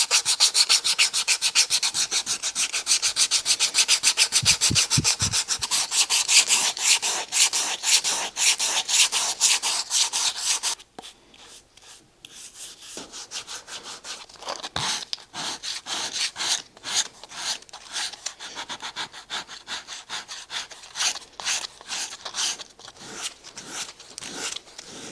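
A stacked leather shoe heel on a boxcalf shoe is smoothed with a file, glass and sandpaper, making steady close rasping strokes that run continuously with a brief pause midway.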